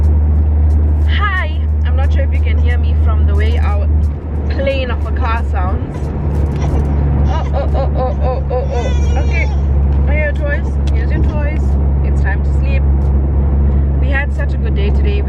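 A loud, steady low engine drone fills the whole stretch, with people talking over it inside a moving car.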